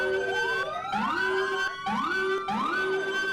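Loud NYPD police siren inside a Roblox game, repeating rising electronic sweeps in a quick yelping cycle with short gaps between bursts, heard alone without voices.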